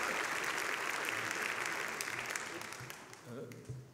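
Audience applause welcoming two guest speakers at an evening talk at the Fondation Louis Vuitton, a steady dense clapping crowd that holds strong, then thins and tapers off toward the end.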